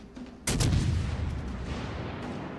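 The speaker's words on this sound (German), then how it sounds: "So, wir schießen jetzt hier erstmal mal auf die Iowa" Warship main guns fire in World of Warships Legends, the Siegfried shooting at an Iowa battleship; a single heavy boom bursts out sharply then rolls into a long, loud rumbling decay.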